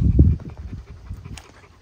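A dog pants close by in quick, rhythmic breaths, loudest at the start and then softer and steady, with a faint higher whine near the end and no talking.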